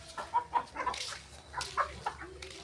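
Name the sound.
chickens clucking in coop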